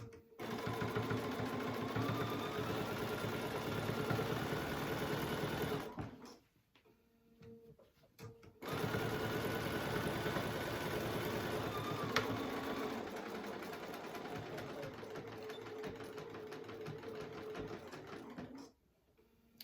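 A domestic sewing machine stitches through a thick folded fabric crochet needle case, a loud continuous whirring hum that stops briefly for a backstitch pause and then runs on steadily again.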